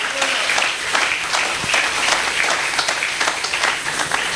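A church congregation applauds steadily in dense, continuous clapping that fills the room, loud and sustained throughout with faint voices mixed into the crowd.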